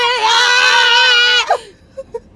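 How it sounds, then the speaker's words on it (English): A person screaming in a long, high, wavering shriek lasting over a second, loud and close, then breaking off into quiet. "My grandma's gonna get mad at me screaming."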